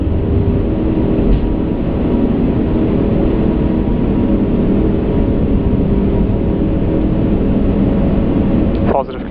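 Airbus A380 jet engines at full takeoff thrust departing Munich, a loud, steady broadband roar filling the whole clip from inside the aircraft.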